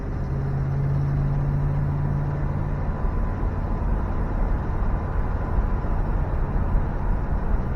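A 1973 Oldsmobile Delta 88 Royale four-door sedan with a 455 Rocket V8 cruises steadily, its engine a continuous low drone with a tonal hum that drops away partway through as the automatic transmission shifts, all heard from inside the car.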